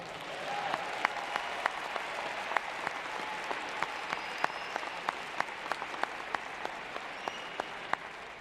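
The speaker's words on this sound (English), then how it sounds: "I would ask that you would give them a round of applause." A large audience at a university fall commencement ceremony gives a sustained round of applause, steady dense clapping filling the hall for the whole stretch, with a few sharper individual claps standing out.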